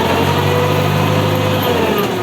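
Tractor engine running on slippery ground, a loud, close, steady mechanical drone with a low throbbing hum throughout.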